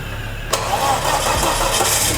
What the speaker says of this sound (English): So first start guys is gonna be with the fuel pump relay off.